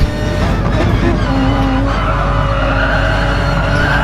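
A race car in a racing video game brakes into Castrol Corner behind a Peugeot, its engine roaring loud and close with a brief tyre squeal, then revving back up out of the corner.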